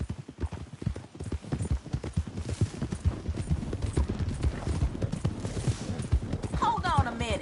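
Horses gallop in Red Dead Redemption 2 with a dense, continuous clatter of hooves that stays close and loud throughout. Brief bursts that may be gunfire sound near the end.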